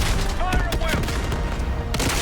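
Rapid gunfire from the Call of Duty Black Ops 6 campaign bursts in dense, loud volleys throughout, with booming impacts and game voices mixed in.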